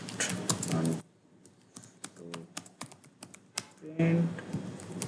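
Rapid clicks and taps of a computer keyboard rattle along as a ChatGPT prompt is typed in, close and moderately loud, with someone speaking in short stretches at the start and end.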